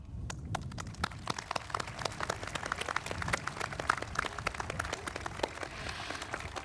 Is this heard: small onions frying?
no